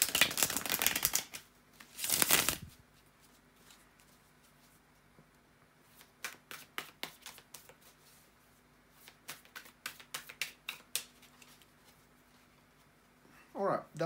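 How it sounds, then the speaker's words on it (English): Tarot cards being shuffled by hand in quick bursts of riffling and soft flicking, close and fairly quiet, with a voice speaking at the start. "bear with me just a second, guys, to shuffle the tarot cards"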